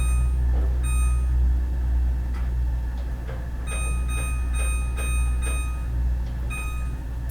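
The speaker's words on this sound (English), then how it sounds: "So I will set a timer." Steady ticking from a kitchen timer set for cheesy chicken baking in a 375-degree oven, alone over a constant low hum.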